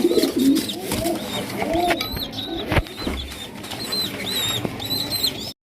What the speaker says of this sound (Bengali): খুবই সুন্দর সিঙ্গেল সিরাজি কবুতর হোয়াইট সিরাজি ভাই হোয়াইট সিরাজি কবুতর মাদি